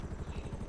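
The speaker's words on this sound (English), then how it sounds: "Oh, helicopter." Helicopter in a video game, a steady broadband rotor drone with faint rhythmic chopping throughout a brief moment, fairly loud and on its own.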